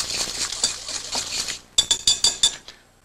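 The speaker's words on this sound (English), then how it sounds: "Whisk that in." A whisk clinks against a mixing bowl while egg yolk is beaten into carrot cake cookie batter: a soft run of scraping strokes, then five sharp, evenly spaced metallic taps near at hand.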